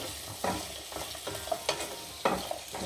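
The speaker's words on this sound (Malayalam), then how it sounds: "സോട്ടാവട്ടെ, നല്ലോണം സോട്ടാവണം." Soya chunks sautéing in a pan with green chillies for street-style chilli soya, a continuous sizzle broken by repeated scraping stirs at an uneven rhythm, close and moderately loud.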